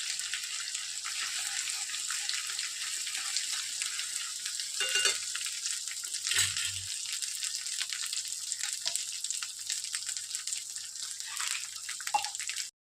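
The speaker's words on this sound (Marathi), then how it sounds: "त्याला छान परतून घेऊ तेलामध्ये।" Ingredients sauté in hot oil with dried coconut for a Maharashtrian patavadi rassa, giving a steady close hiss of frying with a few faint clinks, no voices.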